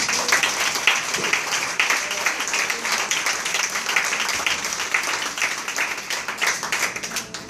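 Church congregation applauding during a service, continuous rapid clapping from many hands at moderate loudness, steady and even throughout with little voice beneath it.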